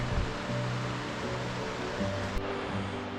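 Creek along the Idaho Centennial Trail tumbling down waterfalls, a continuous broad rushing roar heard from some distance, with faint low hum underneath.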